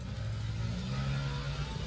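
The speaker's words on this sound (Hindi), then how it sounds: "ओ भाई कितने सिलेंडर का इंजन डलवा रखा है इसमें" A motorcycle engine runs steadily nearby with a low, continuous rumbling drone that holds an even level throughout, with no voices.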